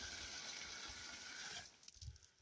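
Water gushes steadily into a bucket from a running tap outdoors, a broad continuous hiss that stops abruptly near the end, followed by faint knocks and handling sounds.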